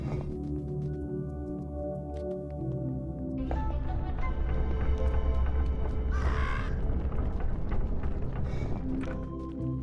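Crows cawing in the puzzle game Monument Valley, a few caws over a sustained ambient music bed with tonal layers, moderately loud throughout.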